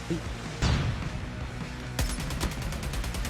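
Gunfire in Call of Duty Mobile: a close burst of shots, a pause, then a rapid rhythmic volley of automatic fire, loud and sharp against background game noise.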